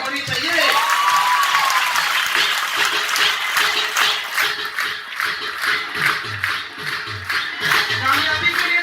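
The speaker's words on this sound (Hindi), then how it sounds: "तो ताली भी कामयाबी वाली होनी चाहिए।" Audience applause at a motivational talk for students: a sustained, dense burst of clapping from a large crowd that carries on steadily throughout, with a voice speaking over it.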